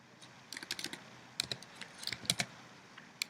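Quiet bursts of computer keyboard typing, a few clustered clicks at a time with short pauses between, fairly close and soft, with no talking.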